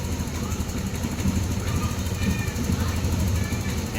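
A Yamaha Nmax v2 scooter engine runs at an unstable idle, a steady close mechanical rumble with a rough, uneven knocking pulse and no break.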